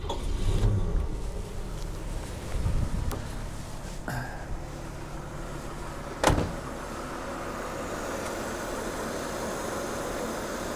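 A 1959 Pontiac Parisienne engine is cranked with a few clunks and a sharp click, then settles into a very quiet, even idle with no one speaking.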